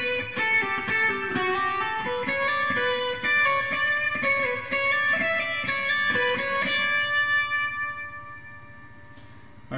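A guitar plays bar 22 of Canon in D as a flowing run of plucked melody notes over ringing harmony. The notes come evenly for about seven seconds, then the last one rings out and fades, with no talking.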